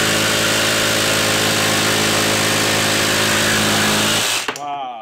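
Ryobi brushless jigsaw cutting on an orbital setting, a loud buzzing, rhythmic motor-and-blade drone that runs steadily for several seconds before stopping abruptly, leaving a brief quiet tail.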